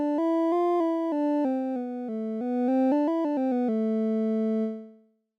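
Three stacked triangle waves from a VCV Rack synthesizer play a stepped melodic line of sustained, smooth tones, notes changing every half second or so before one final held chord fades out, with no voices.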